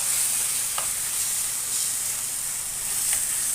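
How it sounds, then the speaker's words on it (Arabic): Chicken pieces for shawarma sizzling on a hot tray, a steady bright frying hiss throughout with a few faint stirring clicks; no talk. "لازم الصينيه تكون معانا سخنه عشان الفراخ بتاعتنا تاخد صدمه"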